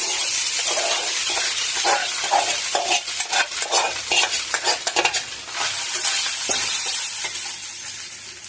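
Spiced egg rice being stirred and fried in a pan after chili and coriander powder go in, giving a steady sizzle with repeated scraping and stirring strokes, close and fairly loud, with no talking.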